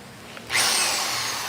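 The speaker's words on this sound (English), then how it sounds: "drill a couple holes into this thing." A power drill bores holes into wood for carved custom steps, starting abruptly after a brief quiet moment and then holding a loud, steady high whine of cutting, close by with no speech.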